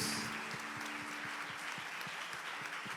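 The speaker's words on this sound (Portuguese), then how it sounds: "Você pode dar um aplauso para Jesus?" A church congregation claps together during a worship service, a steady dense patter of many hands filling the room with a few voices calling out, sustained at even loudness.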